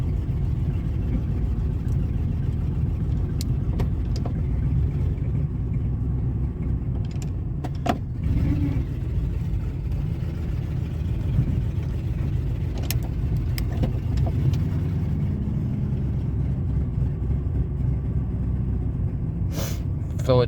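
A 2000 Ford F150 engine with a chugging fault idles close by in a low, continuous rumble with a faint uneven pulse, overlaid by scattered clicks and small knocks from inside the cab.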